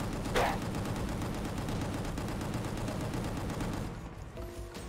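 Dense, continuous gunfire from the video game Gungrave G.O.R.E., a loud unbroken barrage of rapid shots that eases off slightly near the end, with faint game music buried underneath.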